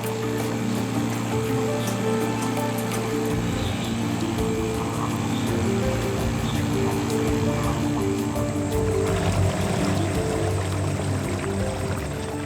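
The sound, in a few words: outboard motor boat on the water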